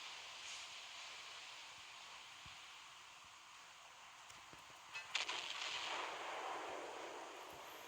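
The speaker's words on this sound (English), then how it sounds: "let's send a few shells towards H45 here while we can" Distant naval gunfire from the battleship Iowa in the video game Naval Creed, a muffled boom and crackle around the middle followed by a lingering hiss over a steady low background rumble.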